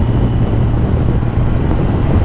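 Wind roars over a 2023 Kawasaki Z900 motorcycle at highway speed, a loud continuous buffeting rush mixed with low engine drone, no voices.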